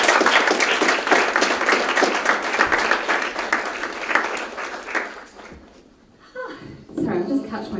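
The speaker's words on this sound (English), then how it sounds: "Give her a big round of applause, please." Audience applause at a book launch fills the room as a dense wash of many hands clapping for several seconds, fading out, followed by a short pause and a few scattered sounds and a voice.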